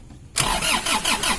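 An Isuzu Panther engine, under a tune-up with its EGR and intake manifold cleaned, starts after a short quiet pause: the starter cranks in quick, even pulses and the engine catches, loud and close, with no voices.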